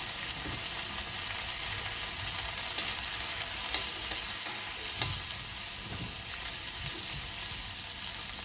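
Pavta seeds roasting in oil while stirred, a loud steady sizzle throughout with occasional soft scraping and utensil knocks in the pan, no one speaking.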